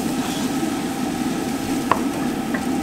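Onions being stirred as they caramelize in a pan at home, a steady soft scraping and faint sizzle running throughout with one brief sharper clink near the end, no talking.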